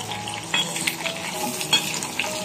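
Kofta and onion sautéing in a pan, a continuous close sizzle with stirring scrapes and a few clicks of a utensil against the pan, no talking.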